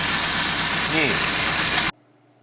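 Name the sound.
engine starting and idling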